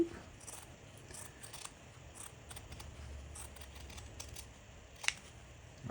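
Quiet, scattered snips of scissors cutting, light crisp clicks at an irregular pace against a soft background.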